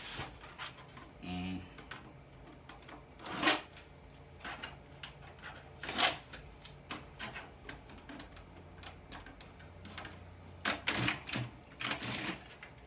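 Handling the back panel of an Epson ET-4760 printer: plastic clicks, snaps and rattles in scattered bursts, close by and fairly quiet, with someone talking.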